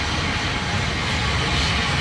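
A helicopter arriving gives off a loud, steady low rotor-and-engine roar that fills the whole moment evenly, with no voices over it.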